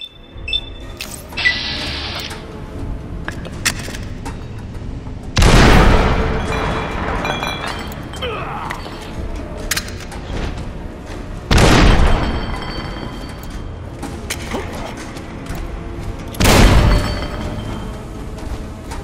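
Grenade explosions in the Fallout: New Vegas video game, three loud booming blasts spaced about six seconds apart, with game sound effects and gunfire-like pops between them.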